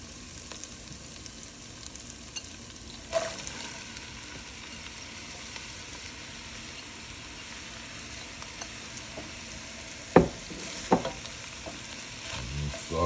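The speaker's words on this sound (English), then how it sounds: "your onions are sauteed and now you're about to put the apples in" Sautéed onions and apples sizzling in a hot pan for a chicken apple chili, a constant frying hiss with occasional spatula scrapes and a couple of sharper knocks, close and alone.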